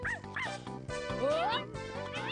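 A small cartoon dog in a 2006 Crayon Shin-Chan video game minigame yips and barks in quick, bright, pitch-bending bursts, close and loud, several calls back to back.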